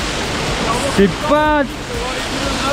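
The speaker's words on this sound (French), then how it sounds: "Donc là, t'as une petite cascade de 5 mètres, suivie d'un toboggan de 17 mètres." Steady rushing water from a small five-metre waterfall in a canyon, a broad continuous roar with brief voices and a short shout breaking in partway through.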